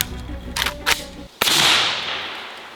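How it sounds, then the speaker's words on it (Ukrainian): A single sharp pistol gunshot, an armor-piercing round, cracks out loud and close, followed by a long ringing echo that fades away; a couple of smaller clacks come before it. "Ми будемо стріляти з ППшки."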